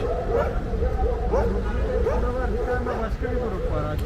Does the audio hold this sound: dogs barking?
yes